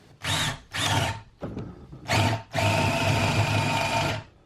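A power drill drilling into wood whirs in short bursts, two quick pulses, a pause, then a longer continuous run biting into the wood, close by.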